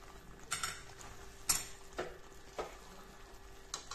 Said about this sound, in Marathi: आता बघा, आपण मसाले आणि मॅश केलेले फ्लावर, वाटाणा, बटाटा याच्यात टाकून घेतलेलं आहे. आता याला मिक्स करून घेऊया.